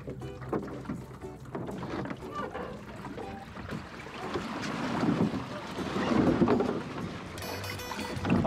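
A small sailing dinghy heels over and capsizes on a windy canal as a person stands on the leeward rail, with water sloshing and splashing, wind buffeting the microphone and a louder surge of splashing near the end.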